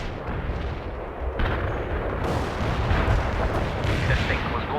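Heavy artillery fire support in the World in Conflict strategy game, a continuous dense roar of shelling and explosions rumbling loudly and without pause throughout.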